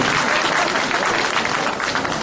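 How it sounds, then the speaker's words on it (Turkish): Audience applause at a school award ceremony for inter-high-school poetry and essay competition winners: dense, steady clapping from a crowd, loud and continuous throughout. "Alkış istiyorum"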